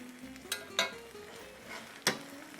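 Chicharrones cook in a pan with bean juice, a soft steady sizzle broken by a few sharp clinks of a utensil scraping and stirring, close by and without talk.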